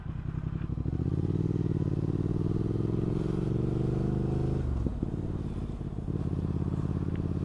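A Triumph Speed Twin motorcycle being ridden, its twin engine a steady close throbbing drone that rises in pitch through the revs, drops at a gear change and keeps pulling, with no talk.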